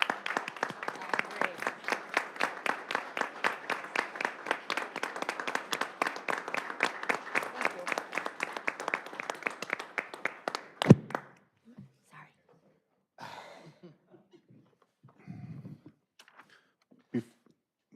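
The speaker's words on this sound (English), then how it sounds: "I'd like to give you a round of applause" A round of applause for veterans at a city council meeting, steady clapping from a small room audience lasting about ten seconds, then fading into quiet shuffling, scattered taps and faint talk.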